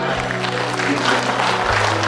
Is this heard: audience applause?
yes